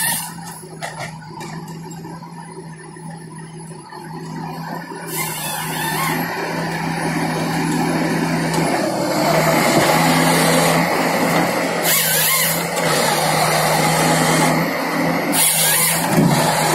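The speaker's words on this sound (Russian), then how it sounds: "Машина называется Понце." A Ponsse forestry harvester engine running loud and close while cutting trees, a steady heavy drone that swells and holds with bursts of mechanical strain and high whine.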